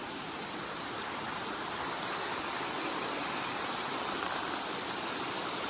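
A river rushing through a forest in Sweden makes a constant, close, dense roar of flowing water that stays even throughout, with no talking.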